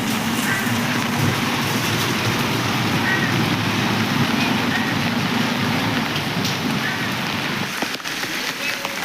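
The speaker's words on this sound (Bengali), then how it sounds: "যাচ্ছি এখন, বাইরে প্রচণ্ড বৃষ্টি।" Heavy rain pours down outdoors in Kolkata as a steady, dense hiss that stays loud and even throughout, with a slight dip near the end.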